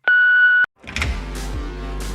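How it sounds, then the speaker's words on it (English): A single steady electronic beep lasting about half a second, sharp and clear, followed by a pause and then a busy mix of background sound. "leave your message after the beep"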